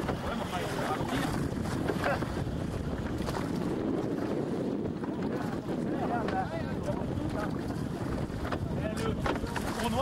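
A sailboat's engine running during a regatta off Brest, a continuous low drone mixed with wind buffeting and water noise at steady loudness, with voices faintly in the background.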